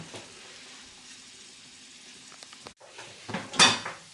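Chopped onion, garlic and pepper fry quietly in a pan, a soft sizzle with light clinks of a utensil, then a sharper burst of sizzling and scraping near the end.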